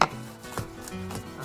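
A knife chopping vegetables on a board for a seafood laksa, giving a few sharp separate knocks, near and moderately loud, over a low steady hum.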